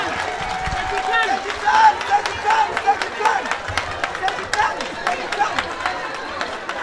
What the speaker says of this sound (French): Les applaudissements de Madame.